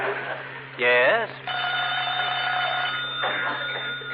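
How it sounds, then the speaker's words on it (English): A telephone rings in an old-time radio comedy broadcast, a bright metallic bell ring cutting in among the voices, with people talking around and over it in a studio setting. "Oh, that's the phone"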